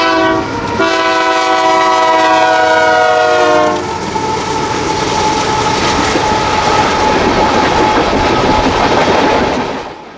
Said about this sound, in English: Running in an eastwardly direction is CP's northbound oil train 575